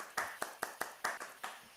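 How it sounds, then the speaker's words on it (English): An audience claps at a presentation event, seven or eight quick, distinct claps in a brisk, fairly even rhythm, soft and a little distant, with no talking over them. "Clap for her."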